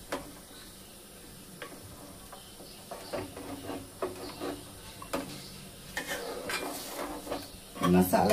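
Mutton paya frying with masala in a pan: soft sizzling under repeated stirring scrapes and sharp ticks of the spoon on metal, building to a louder clatter at the end.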